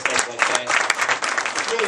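Audience at a comedy show claps and cheers continuously for a couple of seconds, a dense, steady burst of applause with some voices mixed in.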